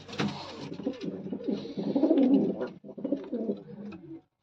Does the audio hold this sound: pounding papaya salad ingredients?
no